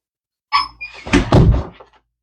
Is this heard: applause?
no